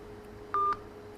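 Telephone keypad dialing tones: two short beeps in quick succession, close and clear over a faint steady hum.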